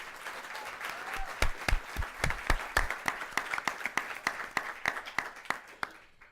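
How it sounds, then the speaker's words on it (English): An audience at a final debate applauds the student debaters, a room full of steady clapping with some louder nearby claps, tapering off and stopping near the end. "Let's give these students a round of applause."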